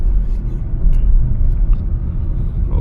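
Steady low diesel drone of a Kia Seltos diesel engine, heard from inside the cabin while the car is stationary, a constant muffled rumble with no talking.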